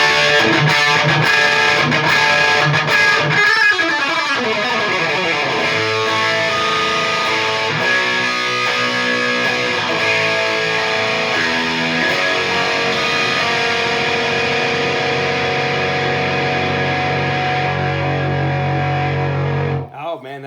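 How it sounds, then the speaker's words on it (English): Electric guitar played through a Keeley El Rey Dorado Sun King overdrive pedal set to high mode, a loud, hot, distorted tone with sustained chords and runs ringing steadily for about twenty seconds before cutting off. "the El Rey Dorado from Keeley, the Sun King. It's got two different modes, low and high. Right now it's on high."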